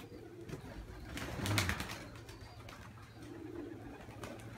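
Domestic pigeons coo softly around a rooftop loft, with low, repeated throaty calls that swell briefly and then continue at a moderate, steady level. No one speaks.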